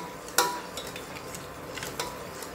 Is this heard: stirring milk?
yes